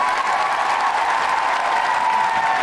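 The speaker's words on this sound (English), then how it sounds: "a round of applause for Marcos Tacos" Steady applause from an audience during a live podcast, thanking a guest called Marcos Tacos; a dense, even wash of clapping sustained throughout with no voices over it.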